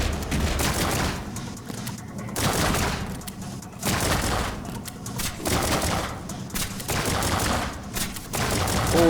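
Rapid, continuous bursts of gunfire from a gun in a video game boss fight, loud and dense with a few short pauses between volleys, with no talking over it.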